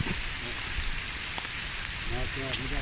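Steady patter of rain falling on leaves fills the scene, soft and constant, with a few faint voices murmuring underneath.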